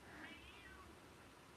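A house cat meows in one drawn-out, fairly quiet call that trails off, with no talk over it.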